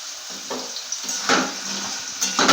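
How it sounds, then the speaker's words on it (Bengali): Red potatoes, carrots and radish frying together in a pan, a close hissing sizzle with a few spoon scrapes and knocks against the pan. "এইভাবে আমি সমস্ত সবজিকে ভেজেই করব"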